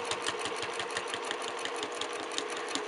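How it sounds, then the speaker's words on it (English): A sewing machine top-stitching a quilt block with the presser foot and needle down, heard as a close, steady, fast mechanical whir with a rapid regular tick and no talking. "Put my presser foot down and start keeping your needle down."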